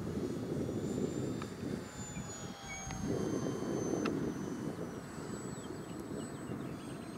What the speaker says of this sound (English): We'll do a loop.